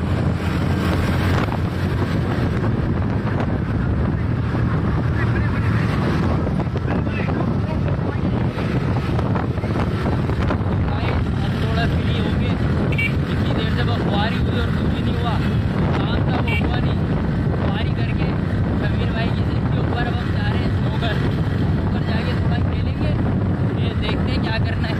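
Wind buffets the microphone during a motorbike ride, a continuous close, loud rushing roar that holds steady for the whole stretch with no break.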